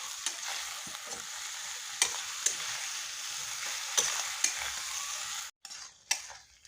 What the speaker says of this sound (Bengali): এখন এটা খুব ভালোভাবে কষিয়ে নেব।